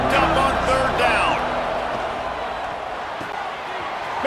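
A College Football 26 video game stadium crowd roars on third down, a loud sustained wash of cheering that peaks early and settles, with commentary talk running over it.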